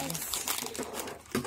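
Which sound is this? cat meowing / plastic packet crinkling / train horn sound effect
plastic packet crinkling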